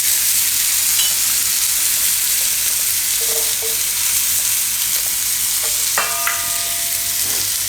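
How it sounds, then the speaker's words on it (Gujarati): Garlic frying in hot oil alongside paneer for a Gujarati tomato paneer dish, a steady bright sizzle with a few faint clinks and light tapping toward the end. "લસણને આમાં શેકાવા દઉં થોડીક વાર."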